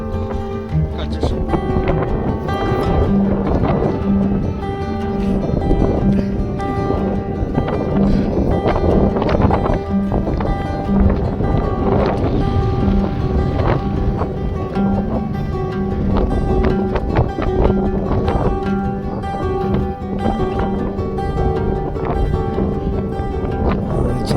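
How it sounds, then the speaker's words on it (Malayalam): Strong cold wind sweeps across Meesapulimala, a trekking peak in the south Indian mountains, blowing steadily and roughly into the microphone for the whole stretch while a person talks over it. "അപ്പം നല്ല തണുത്ത കാറ്റ്, നിങ്ങൾക്ക് ആ ബാക്ക്ഗ്രൗണ്ട് സൗണ്ട് കേൾക്കാം"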